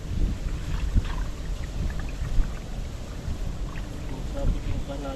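Strong wind buffeting a small fishing boat at sea, with heavy low rumbling gusts and water noise roaring across the microphone throughout.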